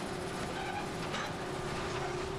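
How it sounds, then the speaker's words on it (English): A diesel-electric tourist train on the St Kitts Scenic Railway rolls along steadily, a continuous rumbling rattle of wheels and cars with a faint steady hum, close and unbroken. "The train operates by diesel-electric power"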